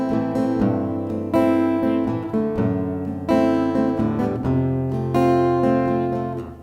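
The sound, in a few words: acoustic guitar strummed without palm muting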